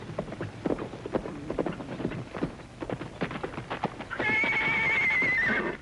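A horse gallops in with rapid, close clip-clopping hoofbeats on the ground in a 1950s Western setting, ending in a loud, sustained neigh near the end.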